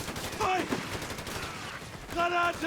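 Machine gun fire from an MG in Company of Heroes 3 rattles in short bursts under a busy battle mix, with a clearer burst near the end.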